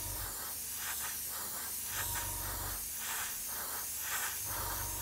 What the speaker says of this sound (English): spraying in the direction of travel